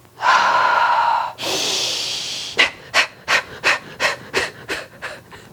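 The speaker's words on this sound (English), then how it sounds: "So inhale through the nose, exhale through the nose." Pranayama breathing through the nose: one long inhale and a long exhale, then a series of quick, forceful rhythmic nasal exhalations, close and distinct.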